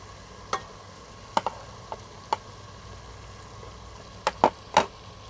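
Capsicum tossed into hot frying masala for an aloo shimla mirch dish, giving a low steady sizzle broken by several sharp clacks and scrapes of a spoon stirring in the pan, close by with no talk.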